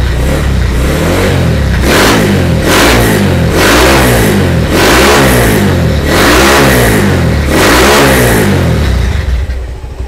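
Honda GL100 motorcycle fitted with a Tiger carburetor, its engine revved repeatedly in steady rising and falling blips, loud and close, with no talk over it.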